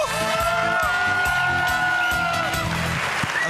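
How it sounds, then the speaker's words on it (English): Wedding guests at a Mangalorean Christian Catholic wedding in Bangalore give continuous applause and cheering, a dense crowd wash with whoops and music-like tones running underneath for the whole stretch. "Can I hear an applause for all of us, everybody?"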